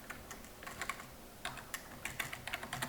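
Keys clatter on a computer keyboard in a quiet room, a quick uneven run of close, light taps with short pauses between bursts.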